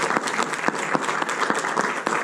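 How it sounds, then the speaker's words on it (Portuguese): A congregation claps together at a church service, a loud, dense round of applause with sharp individual claps standing out, heard with no talking over it. "Dá uma salva de palmas ao Senhor."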